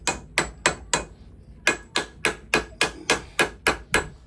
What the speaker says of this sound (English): I'll take a big hammer and I'll finish driving all that down in there